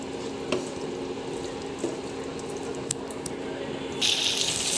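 Vegetable chicken being stirred in a pan, with a soft steady sizzle, a few scraping knocks, and a louder hiss of frying near the end.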